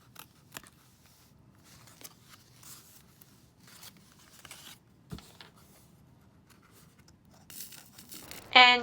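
Quiet snips of scissors cutting the corners of thick card, a few sharp clicks and scraping cuts spaced irregularly, ending in a louder burst of rustling.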